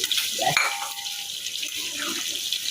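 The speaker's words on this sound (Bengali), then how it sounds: "গরম পানি দিয়ে দেই" Hot water poured into a pan of frying fish, a continuous running, splashing pour with a brief sizzling burst near the start, close by and moderately loud.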